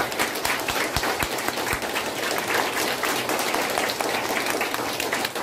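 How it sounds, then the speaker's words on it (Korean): Church congregation applauding during a founding anniversary and sanctuary dedication service, a dense, steady wash of many hands clapping with no talk over it. "박수로 감사해 주십니다."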